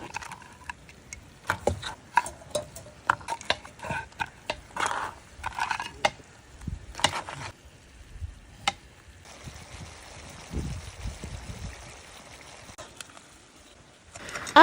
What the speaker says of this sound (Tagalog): isusunod ko na ngang lutuin itong mga malalaking alimango